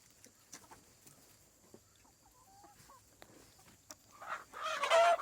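Backyard chickens cluck softly and intermittently in a quiet setting, with faint scattered calls and a louder rustle or flurry building near the end.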